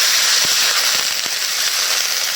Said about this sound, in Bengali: একটু পানি দিয়ে দিই